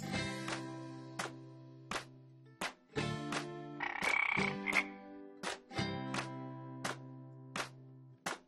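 Frog croaking in a series of loud, resonant pulses roughly every second or so, sometimes doubled, with a brief burst of higher chirping in the middle; no talking.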